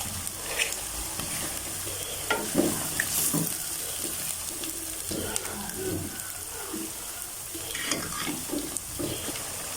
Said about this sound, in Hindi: ये कुछ आलू हमने ले लिए, इनको काट लिया था, अब इसको डालते हैं।